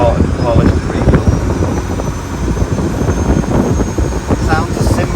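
A 1980s UK powerboat's Ford turbo engine with a cracked block runs steadily at sea, a loud continuous low drone with wind buffeting the microphone and a voice talking over it.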